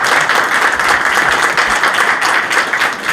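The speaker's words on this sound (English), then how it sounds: "I appreciate the applause" Loud, dense applause from a civic audience at a city address, many hands clapping continuously at close range without any speech.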